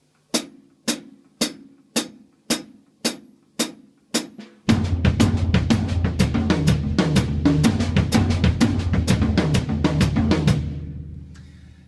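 Drum exercise of three on-beats and three off-beats across bass drum, low tom and high tom: a slow pulse of separate evenly spaced hits, then a dense steady stream of strokes that rings out at the end.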